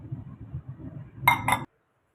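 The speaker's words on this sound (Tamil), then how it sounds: "இப்போ நம்ம எடுத்த வெல்லத்தையும் சேர்த்து கலந்து கொடுத்துக்கோங்க" A metal utensil clinks twice in quick succession against a pot while jaggery is mixed into a pearl millet laddu mixture, crisp and close after soft stirring sounds, then silence.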